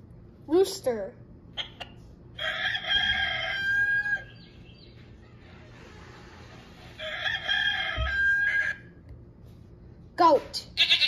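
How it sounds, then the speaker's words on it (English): A rooster crows loudly twice, each call a long, drawn-out cock-a-doodle-doo, with brief short sounds before, between and after the crows. "Rooster."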